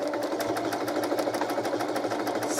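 A sewing machine stitches quilt block pieces together, a rapid even needle clatter with a mid-pitched motor hum, running close and unbroken throughout.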